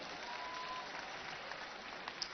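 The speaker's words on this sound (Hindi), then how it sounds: "तो जोरदार ताली बजाओ भाई।" Audience applause at a Delhi Olympic Association event, a dense steady wash of many hands clapping at moderate distance throughout, with no talk over it.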